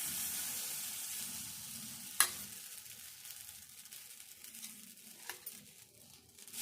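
Uttapam batter made from upma rava sizzling steadily on a hot pan, a continuous frying hiss with a sharp clack of a utensil partway through and a few faint scrapes.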